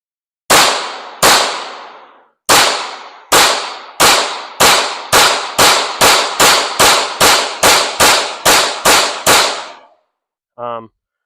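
A Canik Mete pistol fires Monarch brass-cased ammunition in about fifteen loud, sharp reports, a few spaced shots at first and then a fast steady string. A brief ringing clink follows once the firing stops.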